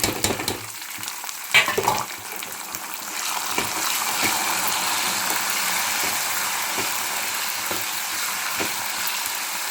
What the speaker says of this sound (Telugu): కరివేపాకు వేసిన కాబట్టి కొంచెం ఇలా పైకి అయితే చిమ్ముతుంది